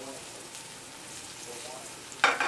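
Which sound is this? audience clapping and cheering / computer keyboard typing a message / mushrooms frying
mushrooms frying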